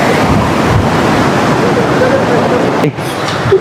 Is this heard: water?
yes